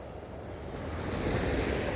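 The Don River flows unfrozen in winter, a broad continuous wash of moving water with some wind noise across the microphone, steady and with no speech.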